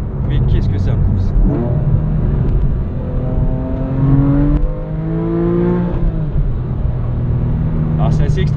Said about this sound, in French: Oh, ce moteur, qu'est-ce que ça pousse!